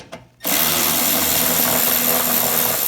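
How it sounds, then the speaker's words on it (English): Electric impact gun backing out a 3/8 bolt on a Troy-Bilt Storm 2620 snow thrower, a loud, steady mechanical whir and rattle that starts abruptly after a brief quiet moment and runs without a break. "I'm gonna use my electric gun to take it off."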